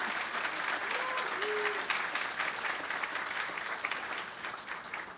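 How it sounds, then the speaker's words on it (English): An audience at an awards ceremony breaks into sustained, dense clapping that fills the room, slowly easing in the final seconds. "one final round of applause"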